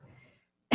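A single cough bursts out abruptly and loudly at the very end, after a stretch of faint murmur and then near silence.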